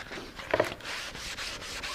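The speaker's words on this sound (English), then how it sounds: "Sand it good with some 320." Steady back-and-forth scratchy rubbing of 320-grit sandpaper on wood by hand, close and continuous with regular strokes.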